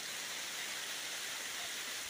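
Steady hard rain falling outdoors by a small frog pond on a hot day, a dense, even wash of broadband hiss with no pauses or voices.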